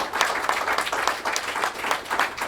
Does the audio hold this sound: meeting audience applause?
yes